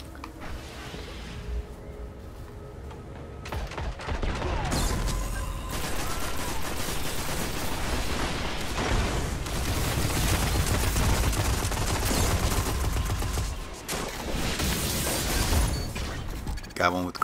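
Suros ARI-45 auto rifle fire in the video game Destiny during a Supremacy PvP match, loud sustained automatic bursts with game effects and a voice talking throughout.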